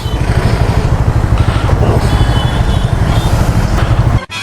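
A Bajaj Dominar 400 BS6 motorcycle rumbles loud and close as it is ridden, a steady deep engine drone with wind buffeting that cuts off abruptly near the end.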